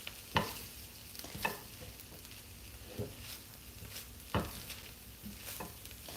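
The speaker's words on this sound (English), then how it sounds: "then just stirring that lime juice so that it can spread all over" Lime juice stirred into sizzling tin fish masala in a pan, a steady soft frying hiss broken by a few sharp scraping spoon strokes against the pan at irregular intervals.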